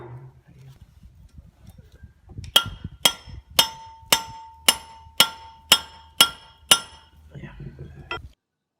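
Nine evenly spaced, sharp metallic taps as a fuel filter is knocked back onto the fuel lift pump primer of a Kia Pregio diesel, each ringing briefly, close and clear, with faint low shuffling before and after.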